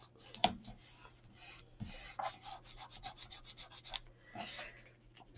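Folded card rubbed firmly to press down glued paper on a pop-up money or gift card holder, giving soft scratchy strokes in short, irregular bursts, close and quiet, with no talking.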